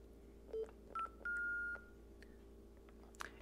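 Short bursts of packet radio data tones pass between two Baofeng handheld radio stations on 144.300: a few quiet, clipped beeps and warbles, then a longer tone, over low background hiss.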